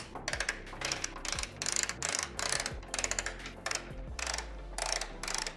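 Ratchet wrench clicking in repeated bursts while tightening cross member bolts on a vintage Porsche, close and fairly loud with brief pauses between strokes, no talk.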